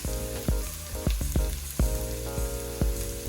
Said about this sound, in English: we cook the garlic until you start smelling the aroma